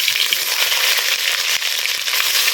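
Cumin, garlic paste and onion paste fry in hot oil for chicken biryani, giving a loud, steady sizzle with small crackles throughout.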